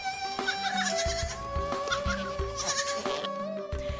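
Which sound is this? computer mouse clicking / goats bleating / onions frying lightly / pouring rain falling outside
goats bleating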